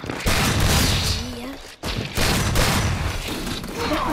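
Dense, continuous gunfire from a shooting video game crackles through the clip with bursts and explosive booms, with a brief drop in the middle and voices faintly mixed underneath.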